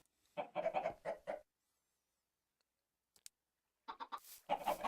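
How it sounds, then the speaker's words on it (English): Bursts of chicken clucking in Minecraft, a rapid cluster at the start, then silence, then another busy flurry of clucks near the end, fairly loud and close. "See what I mean about the chickens being loud and annoying?"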